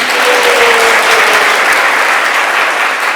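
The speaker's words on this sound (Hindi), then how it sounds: "सब तालियां बजा के गौर मोहन जी का स्वागत कर दो।" A devotional gathering in Udhampur breaks into loud, sustained applause welcoming a guest, a dense unbroken wall of clapping from a large crowd.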